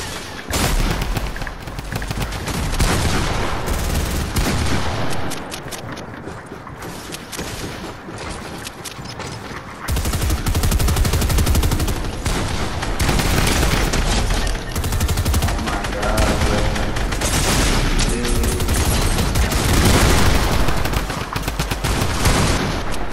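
Rapid gunfire from a Fortnite arena solos match, dense bursts and sustained automatic volleys running loud throughout, with brief voice commentary mixed underneath.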